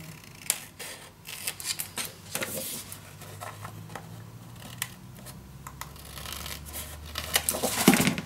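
Scissors snip through scrap paper for a folio craft project in a quick series of close, crisp cuts with light rustling of paper between them, quiet and irregular in rhythm.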